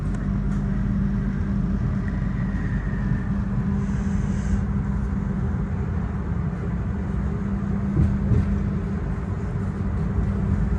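Argo Semeru passenger train running after departing Kertosono station, a steady low rumble and rolling drone heard continuously from inside the carriage, with faint higher rattles and no talk.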